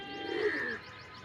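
A local male pigeon gives a single soft, throaty coo, close by but fairly quiet, lasting under a second before dropping back to faint background hum.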